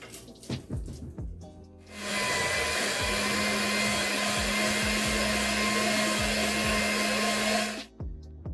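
An electric mixer whirs steadily for about six seconds, blending cake frosting laced with orange Patrón and lemon bitters, with a low motor hum under a broad rushing noise. Brief handling clatter comes before and after.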